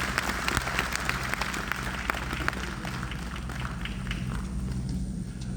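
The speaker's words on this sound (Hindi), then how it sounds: "कृपया तालियों की गड़गड़ाहट के साथ सर का वेलकम करें।" An audience at a formal event applauds steadily, a dense patter of many hands clapping at once, sustained and even at a moderate distance for several seconds without voices.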